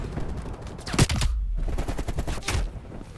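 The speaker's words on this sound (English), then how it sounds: "I'm getting real sick of these snipers just shooting at me from the fucking house" Sniper fire aimed from inside a house in an online shooter game: two sharp, loud cracks about a second and a half apart, each followed by a brief echoing tail, over constant background game noise.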